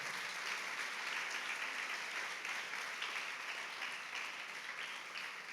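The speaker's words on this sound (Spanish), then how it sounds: "Dale un aplauso de alabanza a él" Church congregation applauding in praise during a sermon, a faint, even wash of many hands clapping that continues steadily throughout.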